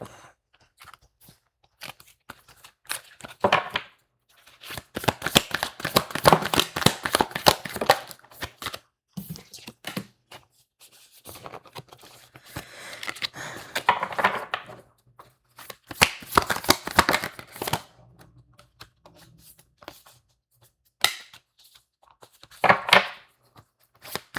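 Bursts of rapid riffling and crisp flapping from a stiff, new deck of cards being shuffled, several separate rounds with quiet pauses between, close by.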